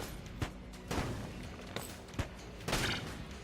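Explosions and gunfire in the video game Enter the Gungeon: a string of sharp bursts and booming blasts, with louder hits near the start and a heavy blast near the end, over a steady game background.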